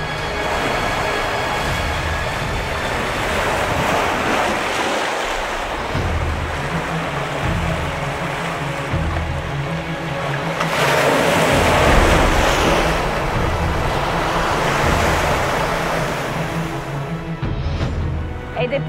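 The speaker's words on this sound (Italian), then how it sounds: "quando il mare inizia ad essere agitato, come in questo momento" Rough sea with waves surging and breaking steadily near the shore where a bell legend is told, a loud continuous wash mixed with wind buffeting the microphone and swelling stronger midway.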